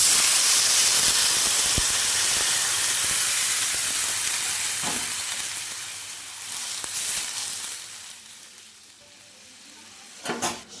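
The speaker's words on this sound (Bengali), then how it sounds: "হালকা করে একটু ভেজে নিয়েছি, এবার জল দিয়ে দেবো।" Water poured into a hot pan of lightly fried drumsticks bursts into a loud, bright hiss of steam that gradually fades, with a few clinks of utensils and a fresh sizzle near the end.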